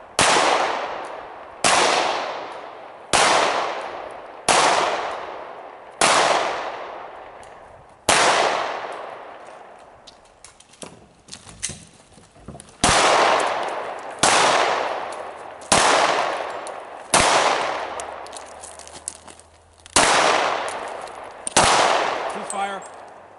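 Pistol gunfire on a serpentine shooting drill course rings out as about fifteen loud, sharp reports spaced a second or so apart, each trailing a brief ringing decay, with a short stretch of scuffling between strings.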